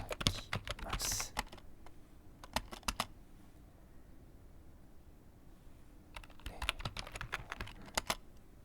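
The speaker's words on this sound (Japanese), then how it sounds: "次にこのどちらかのワードを無言でタイピングします。" Quiet, unhurried typing on a computer keyboard in a soft ASMR setting, with bursts of clicking keystrokes at the start, around the middle and near the end, separated by near-silent pauses.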